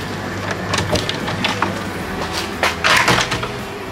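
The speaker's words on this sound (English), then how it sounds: "Well, this door opens nicely now." A mended wooden door being opened, with a run of close knocks, creaks and rattles and a louder bump of wood near the end.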